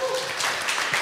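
Audience at a youth electoral forum breaking into brief, dense applause, a steady wash of many hands clapping in a hall with some voices mixed in.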